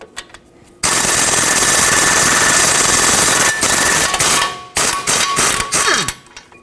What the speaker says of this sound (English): 18mm socket, remove the 2 bolts holding the caliper bracket onto the knuckle